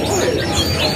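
Caged birds for sale at Pramuka bird market chirp and call in a dense, noisy mix, with busy market background throughout.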